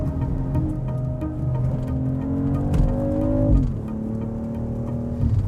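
Inside the cabin of a 2025 BMW X3 M50 on the move, the engine drones with a rising and falling tone as it accelerates and shifts, and tires rumble beneath it, with no voices.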